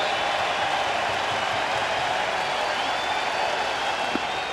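A baseball stadium crowd on its feet cheering for a strikeout pitch, a steady, broad roar that holds at the same level throughout with faint clapping inside it.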